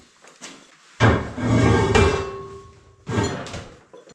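A homemade hammer built from Soviet equipment parts strikes with a few heavy, resonant thuds followed by ringing decay, close and loud, spaced about a second apart without talk.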